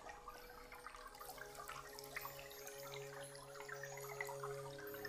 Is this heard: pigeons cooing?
no